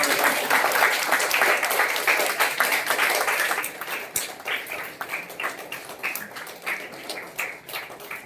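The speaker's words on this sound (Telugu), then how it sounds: "అందరు చప్పట్లతో స్వాగతం" An audience claps steadily in welcome of guests at the opening ceremony of a taekwondo and boxing academy, a dense sustained ovation that gradually thins into looser, scattered claps.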